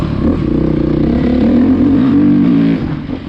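A 2020 Beta motorcycle ridden hard, its engine revving loud and close in a steady, rising drone with harmonic pitch sweeps, easing slightly near the end.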